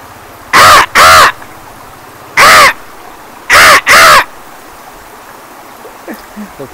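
A man imitating a crow's caw, five loud harsh caws given as a pair, a single, then another pair, close and clear over a soft trickle of running water in the background.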